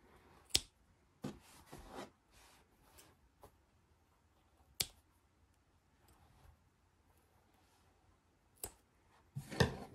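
Scissors snipping crochet yarn while finishing an amigurumi piece, a few sharp isolated cuts spread apart with faint handling noise between them, close and quiet.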